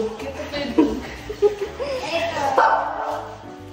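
A dog barks a few times close by, mixed with chuckling and people talking.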